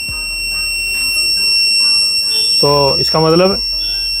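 An electric kitchen chimney's circuit board under repair gives two short, loud buzzer beeps close by, with a steady high whine throughout and someone talking over it.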